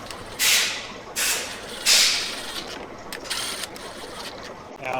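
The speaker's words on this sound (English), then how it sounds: "ARP calls for these to be torqued to 50 foot-pounds, so that's what we're going to be doing here" A torque wrench ratchets on ARP connecting rod bolts of a rebuilt 1968 Pontiac Firebird 350 engine, three loud rasping clicking runs followed by quieter intermittent clicks, close by.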